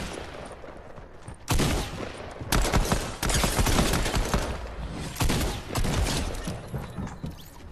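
A bot's shotgun fires in Fortnite. Several loud, heavy blasts come in irregular bursts, separated by quieter gaps with softer game sounds.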